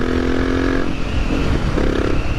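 A Honda Tornado motorcycle revs at night, its engine note rising sharply, dropping, then climbing again in close, loud bursts with a rough mechanical rasp underneath.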